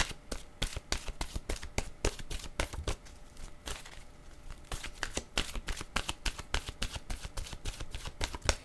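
Oracle cards being shuffled close up, a rapid run of crisp riffling slaps and flutters repeating steadily with brief pauses, no voices.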